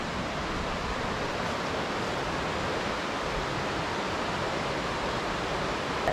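Whitewater rapids on the New River in the New River Gorge, West Virginia, rush as a steady, broadband roar heard through trees, constant and unbroken with no voices.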